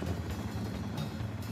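Boeing CH-234 Chinook twin-rotor heavy-lift helicopter working on a logging job, its steady low rotor and turbine roar continuous and loud throughout.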